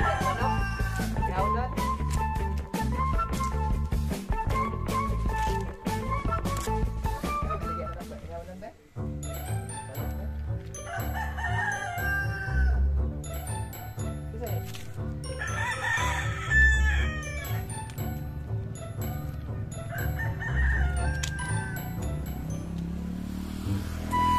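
Native chickens: roosters crow repeatedly, loud and close, with clucking chickens around them and people talking over the birds.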